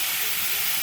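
Chicken pieces dropped into a hot pan hiss in a loud, steady, close sizzle that fills the whole brief moment without pause.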